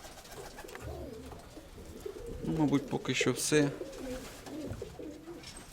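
Domestic pigeons, including a speckled pair, coo in a loft, with soft cooing bursts rising midway under someone speaking Ukrainian nearby.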